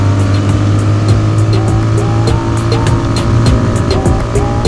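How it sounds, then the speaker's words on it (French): A Royal Enfield Interceptor motorcycle hitched to a sidecar accelerates on an open road, its engine note loud and close, rising through the revs as it picks up speed. "Allez, on accélère, on va les rattraper."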